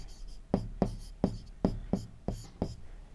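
Chalk or marker writing on a board during a Sanskrit grammar class, with about eight evenly spaced, firm strokes tapping out in a quick, regular rhythm, close and moderately loud.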